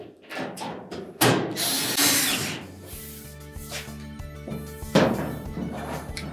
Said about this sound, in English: we'll just install the 2 screws at the back.